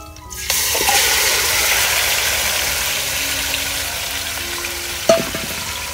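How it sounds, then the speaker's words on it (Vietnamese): Garlic frying in a pot, not a pan, for a Vietnamese country dish of field rat braised in coconut water: a loud, steady broadband sizzle that starts abruptly and holds throughout, with a brief clatter near the end. "bây giờ mình khử tỏi cho nó thơm cả nhà"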